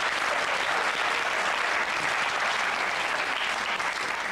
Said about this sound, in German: Was gibt denn da zu klatschen hier?